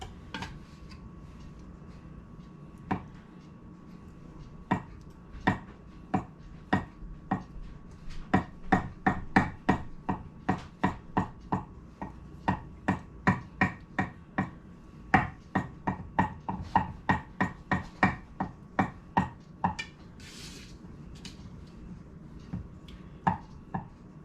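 A knife chops boiled eggs for potato salad, tapping a cutting board in steady, rapid strokes that run almost continuously for about twenty seconds, close and moderately loud with no talking.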